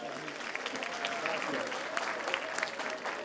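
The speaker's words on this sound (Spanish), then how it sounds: "ahora recibamos con un muy fuerte aplauso al titular de la Autoridad Educativa Federal de la Ciudad de México, al doctor Luciano Concheiro Borges." A crowd at a school education centenary event in Mexico City claps to welcome an education official to the stage. The applause is steady and moderately loud with a few sharper claps, and faint voices mix in beneath it.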